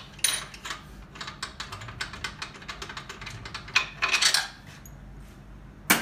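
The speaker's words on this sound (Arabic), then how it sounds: "هاد البولون هذا نفتحوه كيما راكم تشوفوا راني نفتح فيه" Rapid metallic clicks and ticks from a wrench or ratchet loosening a bolt on a boiler burner during a repair, coming in quick bursts with a denser flurry near the end, close and moderately loud.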